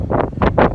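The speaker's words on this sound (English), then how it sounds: "I'm telling you what, it is windy out here today." Strong wind gusts buffet the microphone outdoors during a wind storm with gusts up to 70 mph, three loud surging roars in quick succession.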